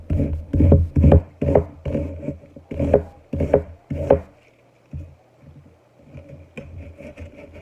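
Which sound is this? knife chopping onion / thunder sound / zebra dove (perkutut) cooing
knife chopping onion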